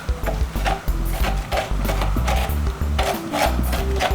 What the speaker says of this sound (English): And then just use a small spoon. Scrape all this inside